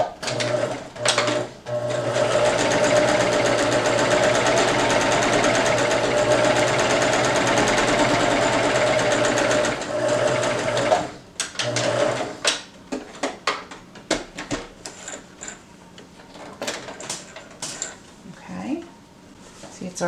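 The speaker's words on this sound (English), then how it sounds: "But we are going to first sew down this part." A sewing machine stitching a fabric face mask, running in a long steady whir for about ten seconds, then stopping and giving way to scattered clicks and handling noises.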